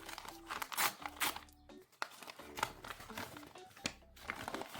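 Strong packing tape crackles and tears as a taped parcel of Pokemon cards is pulled open, with bursts of crinkling plastic and paper, close and fairly loud, pausing briefly between pulls.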